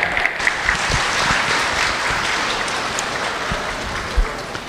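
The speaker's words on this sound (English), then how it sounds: "Give them a big round of applause." Steady audience applause at a youth goat show, greeting young intermediate showmen, with dense hand claps throughout and a few louder claps standing out near the end.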